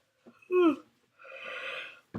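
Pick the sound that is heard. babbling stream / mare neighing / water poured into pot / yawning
yawning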